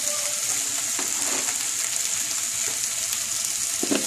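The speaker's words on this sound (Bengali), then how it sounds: "এবারে আমি সবজিগুলো দিয়ে দেব" Potatoes, papaya, carrot and capsicum go into a pan of softened tomato for a chicken stew. It sizzles and fries steadily up close, with a few soft stirring scrapes and clacks.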